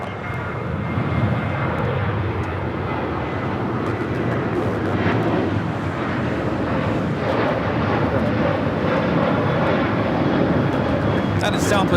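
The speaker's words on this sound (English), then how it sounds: "That is Southwest Airlines 760 taking off to Phoenix on the 737-700." A Southwest Airlines Boeing 737-700 takes off at Los Angeles International Airport, its jet engines roaring as a loud, steady broadband rumble that holds for the whole stretch, with a voice talking over it.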